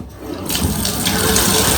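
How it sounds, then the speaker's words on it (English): Water runs steadily into a bathtub as a bleached sweatshirt is rinsed, a loud continuous gush that starts abruptly about half a second in and continues without any talk. "I'm gonna go ahead and rinse this out with water"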